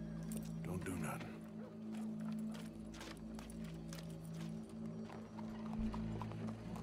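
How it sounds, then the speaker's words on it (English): Horse hooves clip-clop steadily in Red Dead Redemption 2, the walking rhythm running throughout under a low game soundtrack hum and background ambience. "Go brush that horse"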